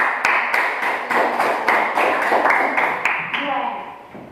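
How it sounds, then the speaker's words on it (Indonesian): A classroom of students claps together in a steady, loud rhythm, the sharp hand strikes merging into one dense burst of applause that fades toward the end. "dengan tepuk tangan"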